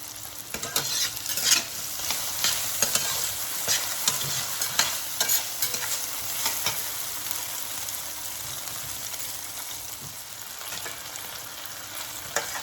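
Onion and potato fry in a pan with a constant bright sizzle, while frequent stirring scrapes and clicks come through up close and then thin out toward the end.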